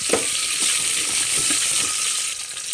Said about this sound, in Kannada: ಇದು ಸ್ವಲ್ಪ ಬ್ರೌನ್ ಕಲರ್ ಆಗೋ ತನಕ ಫ್ರೈ ಮಾಡ್ಕೊಳ್ಳೋಣ